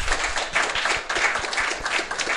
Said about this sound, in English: this calls for a round of applause for Mr.